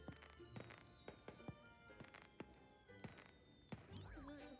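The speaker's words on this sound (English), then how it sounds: "I wanna look at the fireworks." Scattered popping bursts of fireworks in a video game, a dozen or so sharp cracks at irregular intervals over a faint background hum, fairly quiet overall.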